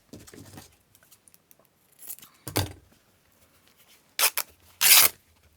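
Scissors snipping through paper in a few sharp, separate bursts, with quiet rustling between cuts.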